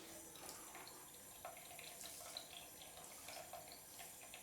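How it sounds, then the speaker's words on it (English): A tap runs steadily into a sink, a faint continuous splashing hiss with small irregular spatters and no talk. "the sound of running water"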